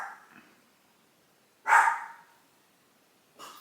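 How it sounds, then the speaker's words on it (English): A dog barks at a package delivery, giving two loud close barks about a second and a half apart after a faint yelp at the start, with no talk. "my dog is going to keep barking because I just got a package delivered"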